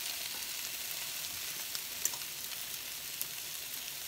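Meatballs sizzle and brown in a pan over low heat, with a faint, steady frying hiss and a few small pops.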